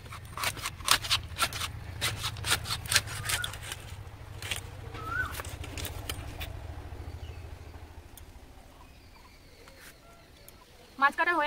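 Live snakehead fish being cut into pieces with a blade, giving a run of sharp, close scraping and cutting clicks over a low hum that thin out midway, then a louder burst right at the end.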